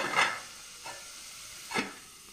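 Chopped beans cook in a pan under a soft, steady sizzle, broken by three short scraping stirs spaced about a second apart; nobody speaks.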